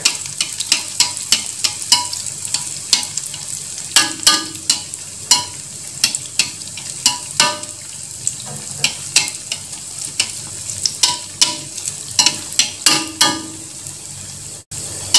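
Kue cucur batter frying in hot oil while a ladle bastes and stirs, steady sizzle with frequent sharp scraping clicks and splashes, close and fairly loud.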